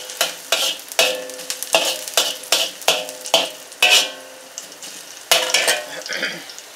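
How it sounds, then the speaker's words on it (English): Soy sauce caramelizing with noodles in a hot wok, heard as close, loud sizzling in repeated bursts as the food is stirred and tossed, with occasional clinks of utensil against metal. "it's best to caramelize the soy sauce while it's still in the wok"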